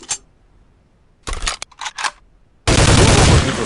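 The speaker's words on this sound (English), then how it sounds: "Now move to the second booth and pick up the M4. You may fire at the target when ready." An M4 rifle fired at a range target in Soldier of Fortune II, with a brief shot, then a cluster of sharp bursts, and finally a loud sustained blast of automatic fire.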